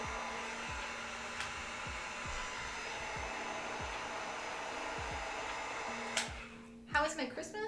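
A heat gun warms cosplay craft pieces for a Junker Queen Overwatch build, a steady blowing roar running throughout with repeated low thumps and a brief burst of other noise near the end.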